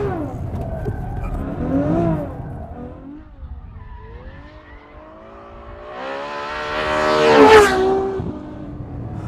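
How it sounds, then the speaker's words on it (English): Ferrari F12 V12 engine revs under throttle as the car oversteers, the note rising and falling, then climbing sharply to a loud peak with tire scrub near the end. "We give it a little bit of gas. Oh, and it oversteers quite a lot."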